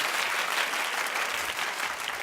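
A studio audience claps together in a steady, even burst, moderately distant and softer in level, sustained for a couple of seconds with no voices over it.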